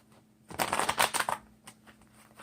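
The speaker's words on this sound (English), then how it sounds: "Let's shuffle through." Tarot cards riffled by hand in a few close, crisp bursts of papery flutter, with brief pauses between the shuffles.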